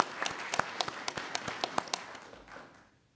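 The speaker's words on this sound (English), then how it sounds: "I'd like to give everybody a round of applause." Sparse round of applause at a police commissioners board meeting, individual claps standing out clearly as a small group joins in for a few seconds before it fades away.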